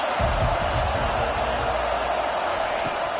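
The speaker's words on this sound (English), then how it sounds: "They challenge this crowd to bring the energy, and I'd say they're doing that." A football stadium crowd at a college game roars in a dense, steady wash of cheering, with commentary voices over it.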